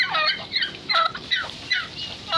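Several turkeys gobbling and calling in quick overlapping bursts, nearby and moderately loud, with no talking.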